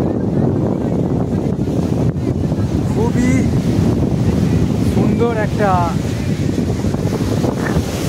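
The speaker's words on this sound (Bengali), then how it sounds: "তো আপনারাও আমার সঙ্গে দেখতে পাচ্ছেন কতটা দাপটময় সেই ঢেউগুলো" Ocean waves surge at Juhu beach in Mumbai beneath heavy wind buffeting the microphone, with a person speaking briefly over the continuous roar.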